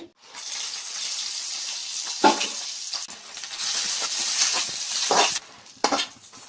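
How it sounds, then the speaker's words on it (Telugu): Dried red chillies fry in hot oil in a pan for a dried-fish chilli dish, giving a steady close sizzle and hiss with a few brief scrapes and stirs, and the sizzle dips near the end. "ఆయిల్ వేడైన తర్వాత ఎండు మిరపకాయలు వేసుకోవాలి"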